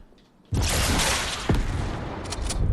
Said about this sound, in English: Let's try this quad launcher.